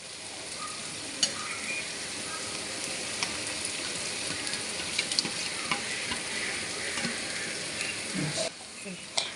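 Spice mix frying with melted tomatoes in a wok for chicken kosha, a continuous close sizzle with scattered clicks and spatula taps, fairly even throughout.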